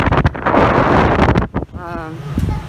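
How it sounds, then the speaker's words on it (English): Gusty wind buffets the microphone with a loud rumbling roar on a Louisiana causeway before a storm; a brief voice surfaces in the middle. "And windy. And storming."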